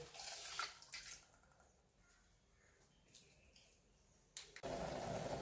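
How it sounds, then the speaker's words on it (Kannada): Water pours into a pot for dissolving jaggery, a bright splashing gush at the start, a quieter stretch, then a stronger steady pour near the end. "ಅದಕ್ಕೆ ಒಂದು ಅರ್ಧ ಲೋಟ ನೀರು ಹಾಕೋಣ"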